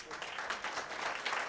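An audience at a climate summit applauds as speakers are introduced, a moderate, fairly distant patter of many hands clapping with small surges in intensity throughout.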